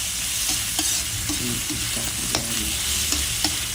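Chop suey vegetables frying in oil while being stirred, a constant close sizzle with light scraping and clinking of the utensil in the pan, and a brief spoken word over it.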